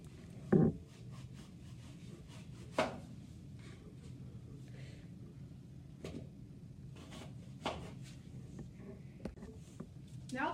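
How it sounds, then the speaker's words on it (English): Knife cutting an apple on a board, a few sparse crunchy chops and taps spaced seconds apart over quiet room noise, close and fairly faint. "Next, cut the apple."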